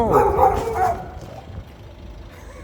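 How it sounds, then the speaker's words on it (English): A man's dog barks and yips a few times at close range in the first second, with a man exclaiming briefly before the sound fades into quiet outdoor background. "That's a guy's dog."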